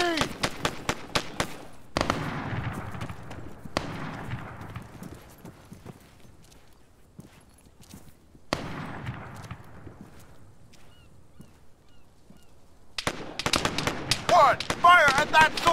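Gunfire in the video game Arma 3 during a fight at Belfort: a fast burst of sharp shots, then single cracks with long echoing tails, and a dense rattle of fire near the end.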